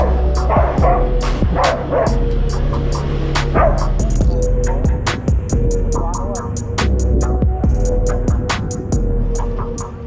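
Dogs bark in loud, rapid bursts with sharp yips, close by in a rural village setting, over a low steady hum.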